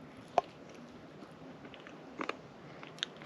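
A few sharp, crisp bites and crunches, close up, spaced out across a quiet background: one early, a cluster midway, another near the end.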